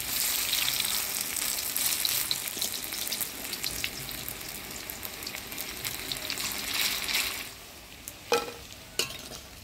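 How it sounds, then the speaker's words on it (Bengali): Malabar spinach leaf fritters frying in oil, a dense, close sizzle that runs steadily and then thins, with a couple of sharp utensil taps near the end and no talk. "এবার পটাপট বড়াগুলা ভেজে নিব।"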